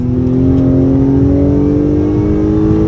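A 2022 Acura TLX A-Spec engine drones loudly and steadily, with artificial cabin engine noise, its pitch slowly climbing as it accelerates, with no voices over it.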